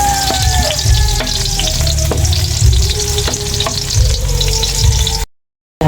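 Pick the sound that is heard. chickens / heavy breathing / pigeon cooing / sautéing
sautéing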